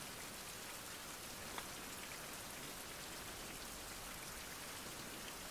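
Steady rain pours in the survival game Fountain of Youth, a dense, even hiss of drops that runs unbroken from start to finish with no voices.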